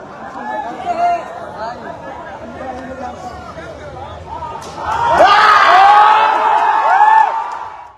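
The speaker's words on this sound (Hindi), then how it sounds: "बड़ी संख्या में नीचे देखिए ये जो भीड़ है" A large crowd on a campus celebrating an election win, dense chatter and shouting that swells into louder cheering and whooping partway through, with voices close and overlapping.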